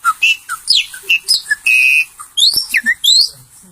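A boy whistles an imitation of the graúna bird, a loud, close run of quick chirps and sliding rising and falling notes in short bursts with brief gaps, a human voice mimicking birdsong.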